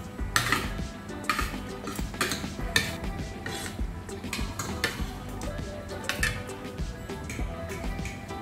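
Spoon and cutlery clinking against a plate and dishes while someone eats rice, a steady run of close, light clinks and scrapes with soft handling noise throughout.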